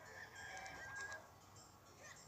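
A chicken clucking in The Legend of Zelda: The Minish Cap, faint repeated game-style clucks over a soft constant background of game sound, brief and quiet.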